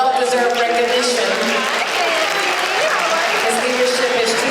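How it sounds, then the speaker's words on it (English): Audience clapping at an awards reception, a steady dense wash of applause from a crowd of guests that holds at an even level throughout, with some voices mixed in underneath. "A round of applause for Mel and well-deserved recognition"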